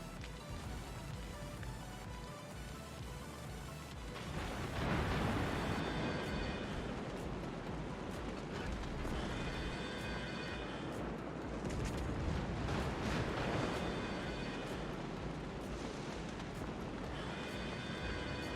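Heavy battleship gunfire in World of Warships from a Tier VIII German battleship, deep booming salvos and rumbling blasts swelling over a continuous low roar of battle, with no talk.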